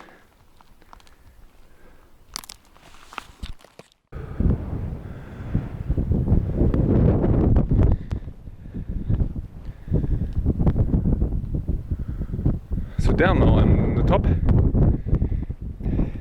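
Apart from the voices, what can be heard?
wind blowing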